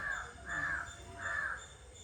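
A crow caws three times in a slow, evenly spaced series, loud and fairly close, with a steady outdoor hum beneath and no talking.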